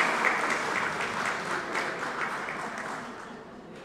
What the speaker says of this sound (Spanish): Aplauso nuevamente para el doctor Manuel Sosa Pichardo.